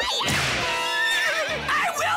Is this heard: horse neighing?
yes